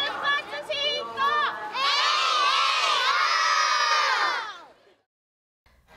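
Around forty kindergarten children in festival happi coats call out together during a fire prevention parade through a hot-spring town, a loud massed shout of young voices that swells after a few seconds, holds, then breaks off into silence.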